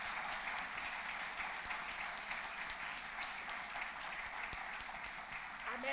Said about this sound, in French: que le peuple de Dieu puisse vous applaudir, vous encourager au nom de Jésus